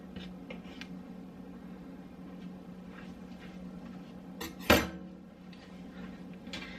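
A knife cutting through three lined-up pieces at once on a board, one sharp, close chop landing partway through, with light clatter before and after in a quiet room.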